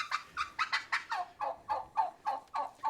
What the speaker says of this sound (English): So the annoying turkey is Gertie. She is the loud one